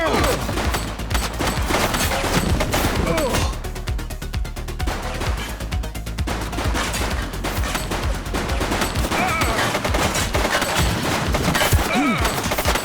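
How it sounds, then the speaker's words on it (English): Dense rapid gunfire from several weapons during a police shootout in The Precinct video game, steady and loud across the whole stretch with bursts layered over one another, and some faint voices beneath. "Shots fired!"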